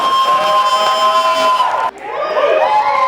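A comedy club audience cheers and whoops loudly as a comedian is introduced, a dense crowd roar that drops off sharply near the end.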